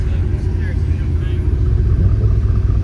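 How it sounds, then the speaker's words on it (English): A Mercedes McLaren SLR at a supercar breakfast meet gives off a deep, steady low rumble, heavy and close, with a voice speaking over it. "Mercedes McLaren SLR"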